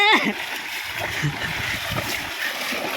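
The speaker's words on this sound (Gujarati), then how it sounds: "તો મિત્રો ધોધમાર વરસાદ પડી રહ્યો છે" Heavy monsoon rain pours down on the first day of the season, a dense, continuous splashing wash close by, with a short voice-like sound near the start.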